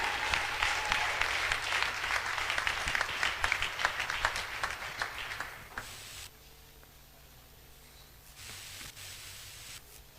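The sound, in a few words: audience applause for the speaker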